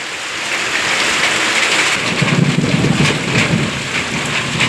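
Heavy rain pours down onto a house courtyard in a dense, continuous hiss, with a low rumble swelling in the background partway through.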